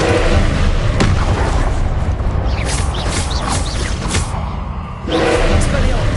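Confringo blasting spell in Hogwarts Legacy, heavy booming explosions layered with crackling bursts, loud and close, with a voice speaking among the blasts.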